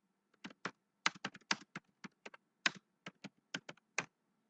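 Text is typed into Microsoft Word on a computer keyboard, a run of crisp, close keystrokes in irregular clusters, some quick doubles, over a quiet room with no talking.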